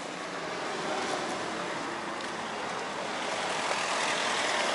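A Mazda RX-8 rotary engine idles steadily after a hot start with a broad, rough hum and hiss, holding an even level throughout without voices.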